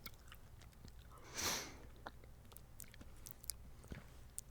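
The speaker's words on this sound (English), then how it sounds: "They want to hear you chewing." A sour gummy dipping stick is chewed close to the microphone, giving one short, wet, crunchy burst of mastication followed by faint scattered mouth clicks in a quiet room.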